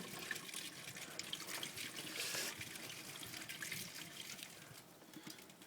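Beer is poured in a steady stream for several seconds, a soft liquid trickle and splash with a brief louder gush midway, faint and with no talking.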